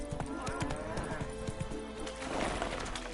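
Horse hooves clip-clopping at a quick, steady rhythm in The Witcher 3, close and clear over ambient game music and background sound.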